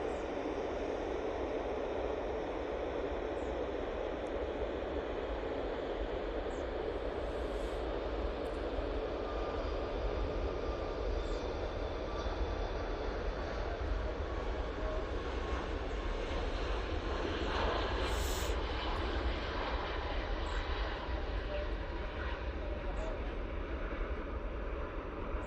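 A Boeing 737 MAX 8 jet rolls for takeoff at Manchester Airport, a steady distant roar of engine noise that holds evenly for about twenty-five seconds with faint hiss and no talk.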